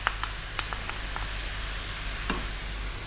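Tomato paste sizzles steadily in a hot curry pan while chicken curry cooks, a soft continuous frying hiss with a few faint clicks and stirring taps.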